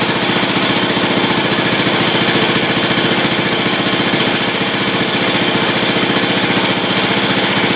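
A small Reo engine runs steadily after a carburetor repair, a loud close rapid chugging with an even fast firing rhythm throughout and no voices.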